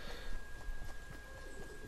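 Horse hooves clip-clop in the Fortnite video game: a quick run of faint, evenly spaced hoofbeats over a low background, with no talking.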